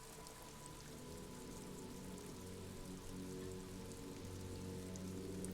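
Steady rain in the video game Disco Elysium patters and drips off roofs along an urban coastline, a constant soft hiss with a low ambient hum beneath, no voices.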